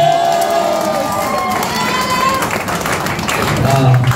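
A live audience at a talk or seminar claps together, a steady dense patter of many hands with cheering voices mixed in, loud and sustained for the whole stretch.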